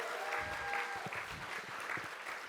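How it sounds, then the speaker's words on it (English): An audience applauds DCYF staff at a bidders conference, a steady, moderately loud patter of clapping throughout. "give it up for the DCYF staff"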